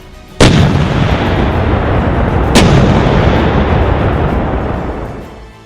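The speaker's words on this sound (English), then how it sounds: "Footage released yesterday showed a Leopard 2A4 tank of Ukraine's 155th Mechanized Brigade firing on an apartment building on the outskirts of Pokrovsk" Two heavy, booming cannon blasts from a Leopard 2A4 tank firing on an apartment building near Pokrovsk, about two seconds apart, each rolling away in a long, loud rumbling decay.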